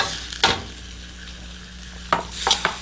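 Fried paneer sautéed in ghee in a pan, a continuous sizzle broken by a few sharp spoon-and-pan clanks and stirring scrapes at the start and toward the end.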